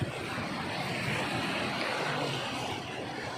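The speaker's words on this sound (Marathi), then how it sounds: "हा बघा समुद्र पाऊस पाणी अंगावर येते" Steady, loud roar of sea waves crashing close by on the Konkan coast in rain, a continuous wash of surf with wind noise throughout.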